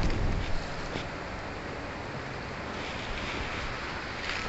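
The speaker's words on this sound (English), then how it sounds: "it's a bit windy out." Outdoor wind around pecan trees, a broad continuous rushing buffet with low rumbling gusts, louder at the very start and then steady, with no voices.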